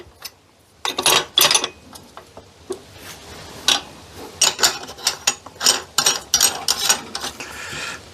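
A meat grinder fitted with a 3mm plate runs while burgers are made, giving uneven mechanical ticking and clattering bursts that rise and fall in loudness, with gaps of quieter hum between.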